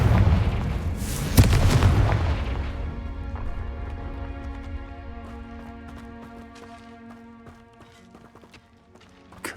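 A Confringo fire spell in Hogwarts Legacy bursts into a loud, deep explosion that rumbles and slowly fades away, leaving scattered small clicks and a faint tonal hum of game audio.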